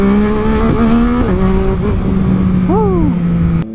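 A 2022 Yamaha MT-09 motorcycle engine held at a steady loud drone during a wheelie, with small pitch dips and a quick rev flick near the end before it cuts off, heard up close with wind noise.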